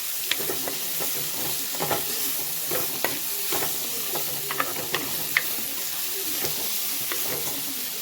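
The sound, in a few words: sautéing and stirring cauliflower with salt in a pan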